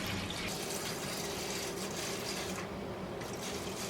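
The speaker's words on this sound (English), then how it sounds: "put some water at the bottom of this tray" Water trickles and pours softly into the bottom of a seed-starting tray, a faint, continuous splashing flow heard close up with no talking.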